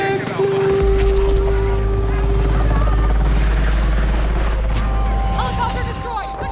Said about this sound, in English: Helicopter destroyed!